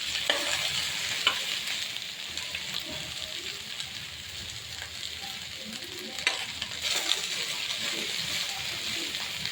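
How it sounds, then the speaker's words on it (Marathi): Okra (bhindi) stir-fried in a pan: a soft continuous sizzle with periodic scraping stirs, heard close at moderate volume and alone without talk. "आधी आपल्याला भेंडी परतून घ्यायची आहे"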